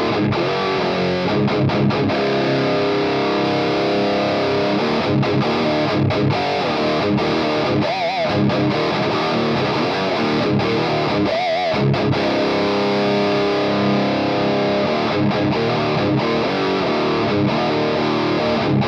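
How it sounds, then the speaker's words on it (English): A Driftwood Heavy Hatchet guitar amplifier on its distortion channel pushes out a thick, saturated electric guitar, loud and sustained with chugging rhythm and a few ringing bends, playing alone without talk. "We're going to go down to the distortion now."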